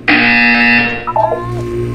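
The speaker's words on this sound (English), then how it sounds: "You will hear a buzzer." A loud electronic buzzer from the Portal 2 video game sounds once for about a second, a harsh sustained tone that cuts off and leaves quieter game ambience behind.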